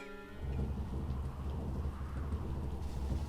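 Heavy rain and rolling thunder from a storm scene in a visual novel game, a steady dense downpour with low rumbling that holds throughout, loud and continuous with no voices.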